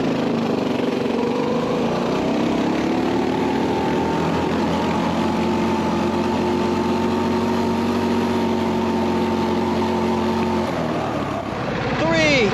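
A Coleman BT200X mini bike fitted with a Predator 224 engine revs hard as it accelerates, a loud, close buzzing drone holding steady pitch before rising sharply at the end, with people shouting nearby.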